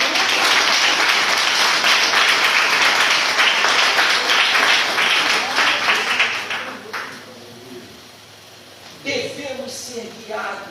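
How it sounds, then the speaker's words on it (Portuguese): A church congregation bursts into loud, dense applause that holds for several seconds, then thins out and fades, with voices and a few scattered claps following in the quieter tail. "Você pode aplaudir Jesus?"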